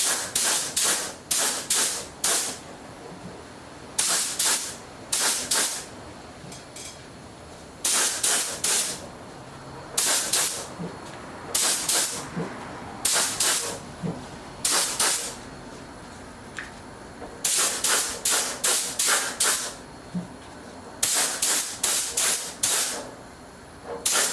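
Cerakote coating sprayed onto the skirts of engine pistons in repeated short bursts, each hiss lasting about a second, closely miked and loud with brief quiet gaps between groups.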